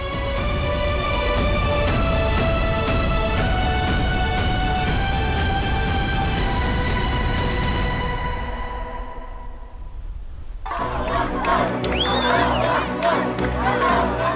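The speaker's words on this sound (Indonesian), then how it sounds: "Sorak-sorai dan rasa syukur mewarnai reaksi warga Gaza atas kesepakatan gencatan senjata dan perjanjian damai antara Hamas dan Israel." Crowd of Gaza residents cheering and shouting over a ceasefire agreement between Hamas and Israel, a loud sustained roar of many voices with music-like tones early on, briefly dipping before the crowd noise swells again.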